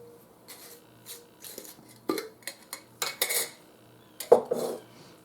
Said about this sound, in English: You just get your little bean, and then you slice it down the center